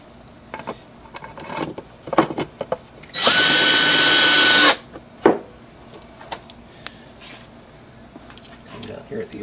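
A power drill drives screws into a pipe rack during assembly, one loud sustained whir of about a second and a half midway, set among handling clatter and voices talking nearby.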